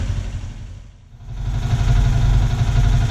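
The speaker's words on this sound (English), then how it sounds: "That engine has been going on non-stop and I've barely slept at all" A fishing boat's engine runs without pause in the Indian Ocean off the Maldives, a steady low droning rumble that dips briefly and then swells back to a loud, constant hum.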